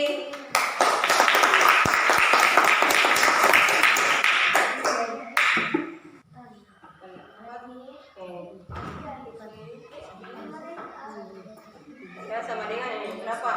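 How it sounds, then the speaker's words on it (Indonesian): Students in a classroom clap together in a brief burst of applause, a dense run of hand claps lasting several seconds. A teacher's voice follows, with quieter talk after the clapping stops. "Oke, ya tepuk tangan untuk Alvin."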